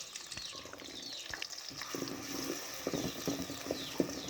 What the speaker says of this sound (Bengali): পেঁয়াজ কুচি দিয়ে এখন পেঁয়াজগুলো আমি খুব সুন্দর করে ভেজে নেব।